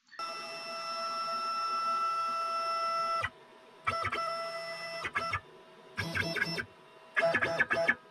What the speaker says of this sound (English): we use the jog control here on the right hand side to move the machine to the starting position